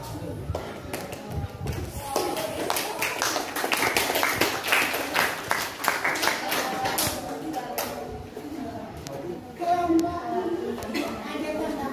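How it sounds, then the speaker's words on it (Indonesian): A classroom of students applauds after a group presentation, a dense burst of many hands clapping that swells and fades over several seconds, with voices talking over and after it. "Aplaus."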